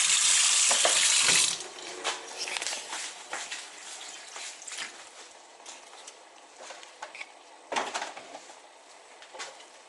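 Water poured into a pan while pancit noodles are cooking, a loud splashing stream for a second or so, followed by softer clatter and light sizzling from the pan.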